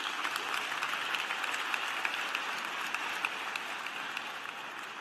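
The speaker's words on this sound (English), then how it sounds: "Give her another round of applause," Steady applause from a large audience at a university graduate and professional commencement ceremony, dense continuous clapping filling the whole stretch at an even level.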